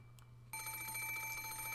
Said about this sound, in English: There was a phone on the bedside table across from the one with the doll, and it was ringing noisily.